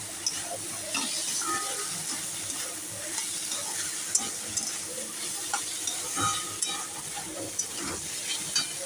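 Lentils stirred in a pan with turmeric and salt, a steady soft sizzle broken by scraping stir strokes and small clicks of the utensil, with no talk.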